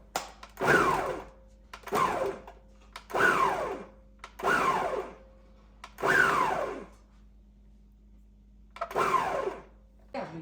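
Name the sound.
Ninja Foodi Power Blender running on chop setting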